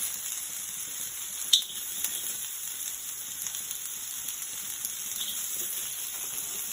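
A fresh batch of food in a hot wok for a Chinese spicy and sour stir fry, giving a steady, fairly quiet sizzle with a few sharp crackles and one clear pop near the start, and no voices.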